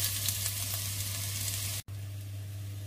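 Ginger and onion fry in a pan for pork binagoongan, a steady close sizzle with a constant low hum underneath and a brief cut partway through.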